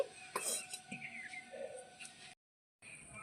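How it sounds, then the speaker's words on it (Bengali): An iron kadai set down on a home kitchen stove, giving a few sharp metallic clanks and clinks early on, then quieter scraping before a brief silence. "কড়াইটা বসিয়ে দিচ্ছি"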